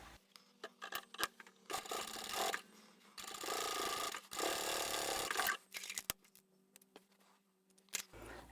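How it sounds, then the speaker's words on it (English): Sewing machine stitching the boxed corner of a fabric bag through two lined-up layers, sewing back over an existing seam line; mechanical whirring runs in bursts of a second or two, separated by short pauses and small clicks, with no talking. "I have both layers lined up, and I'm going to stitch over that same stitching line."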